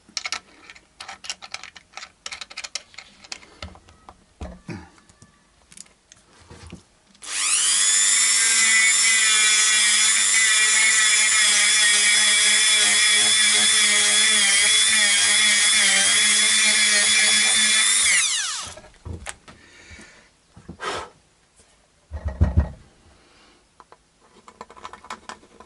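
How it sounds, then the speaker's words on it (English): A Dremel rotary tool with a fine sanding bit works on a guitar bridge, giving a steady high whine that runs continuously for about eleven seconds between quiet handling noises. "use a Dremel sanding bit like that"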